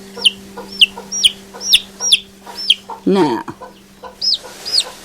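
Chickens cluck in a quick run of short, sharp calls, close by, with a brief harsher squawk in the middle and a low steady hum underneath; a person speaks a single word.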